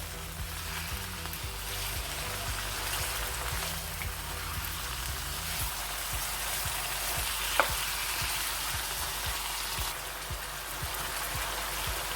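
Chicken pieces fry in a pan for a white chicken handi, giving a continuous close sizzle and crackle with occasional stirring clinks and a brief scrape.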